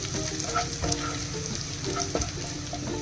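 Garlic and chilli flakes sizzle in hot oil on a low flame, a steady close crackling with occasional stirring scrapes and no voices.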